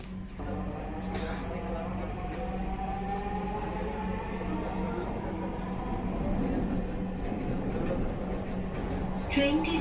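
Dhaka metro rail train heading for Agargaon running at night, a steady interior rumble and whine with rising tonal motor hum heard from inside the carriage, an onboard announcement voice faintly over it.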